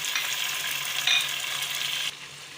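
Pieces of chicken fry with garam masala in a pan, giving off a steady hiss of sizzling oil at moderate loudness. The hiss is close and continuous, with a brief scrape partway through, then it softens slightly.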